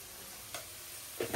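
Potatoes frying in a pan with onions, green chillies, cumin and mustard seeds make a steady, close sizzling hiss, broken by a couple of brief stirring scrapes.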